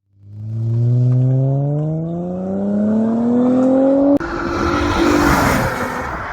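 A 2006 Acura TL engine revs steadily upward with a rising whine as VTEC engages, loud and close, before a sharp break into a rougher, noisier roar.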